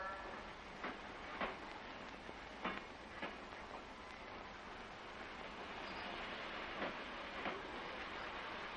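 A train rumbles faintly in the distance at a railway station, with scattered rhythmic clacks and rattles over a steady hiss.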